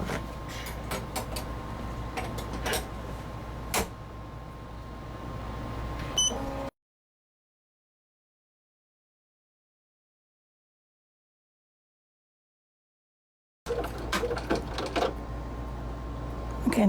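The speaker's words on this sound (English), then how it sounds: "Now it's going to do a satin stitch in there." An embroidery machine sews a satin stitch, a fast steady mechanical whirr with rapid needle ticks and a faint tonal hum, cutting to silence in the middle before resuming.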